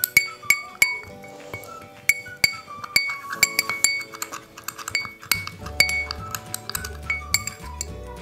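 A spoon stirring a lentil powder face pack in a glass bowl, with repeated sharp clinks against the glass in an uneven rhythm, close up and clear with no talking.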